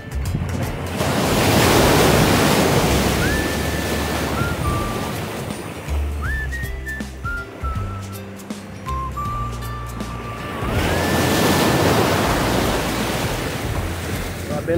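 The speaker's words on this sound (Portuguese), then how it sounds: "aqui tem onda quebra" Ocean surf breaking on a shore during a crossing on foot, a loud continuous roar swelling into two big wave crashes with wind buffeting the microphone between them, steady and close throughout.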